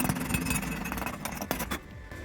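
Thin metal being welded with an 80NOVA 100V welder, giving a dense, continuous crackling buzz that runs steadily and then drops off sharply near the end, close and fairly loud with no voices.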